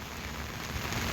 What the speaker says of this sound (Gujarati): વરસાદ ચાલુ છે ફૂલ.